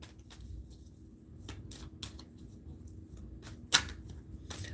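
Tarot cards being shuffled by hand, heard as soft, intermittent riffling bursts against a quiet background, with no one talking.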